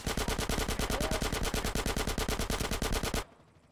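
Rapid automatic gunfire in GTA San Andreas Remastered rattles out in one continuous, loud, evenly spaced burst of about three seconds before cutting off abruptly into quieter background noise.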